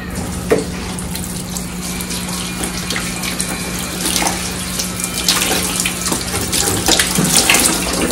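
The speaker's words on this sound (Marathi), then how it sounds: "नळाच्या पाण्याने 3-4 वेळा धुवायची" Steady running tap water splashing into a sink, continuous and close, with small clinks and rustles of moong lentils being rinsed by hand.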